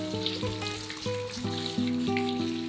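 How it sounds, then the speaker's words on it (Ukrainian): Fresh peeled garlic cloves fry in a pan with a steady sizzle, partly masked by louder melodic background music with distinct sustained notes. "Зауважте, що часник смажиться дуже швидко."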